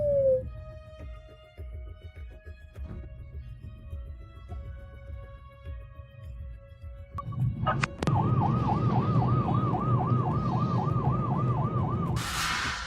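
An ambulance stuck in a heavy traffic jam sounds its siren with a rapidly warbling wail that begins partway through, loud and close above the rumble of idling traffic, and no voices are heard.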